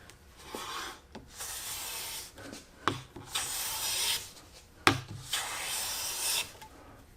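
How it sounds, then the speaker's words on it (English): Thin wood shavings taken with a bench plane: three or four brisk rasping strokes with short hissing sweeps and faint knocks between passes, moderately quiet and without speech. "that's taken a nice shaving in that it's relatively thin, or it's very thin"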